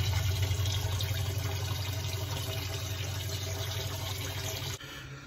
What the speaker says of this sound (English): we'll turn the water on